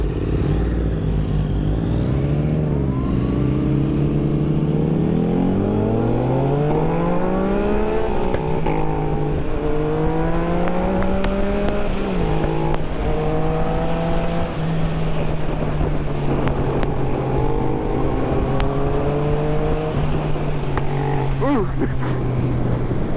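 A new motorcycle's engine revs up through rising pitch sweeps, drops at each gear change and climbs again during a ride. It stays loud and close the whole time, and someone talks over it.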